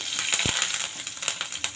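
Mustard seeds, cumin, urad and chana dal, curry leaves and asafoetida crackle in hot oil for a tempering, giving faint, scattered pops and a soft sizzle with no voices.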